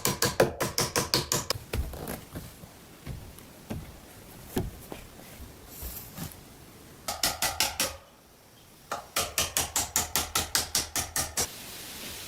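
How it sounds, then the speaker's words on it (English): Nails are hammered into roof trusses and beams of a log cabin in a deep forest, sharp metallic strikes in quick rhythmic bursts of about a dozen blows, separated by scattered single taps and short pauses, with no talking. "I am attaching the trusses to the beams with nails"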